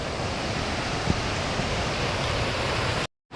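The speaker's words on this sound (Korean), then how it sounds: "동벼랑에 이런 폭포예요" A waterfall pours down a cliff along an autumn mountain trail at Gombaeryeong, giving a steady, close, loud rushing roar with no talk, before it cuts off abruptly near the end.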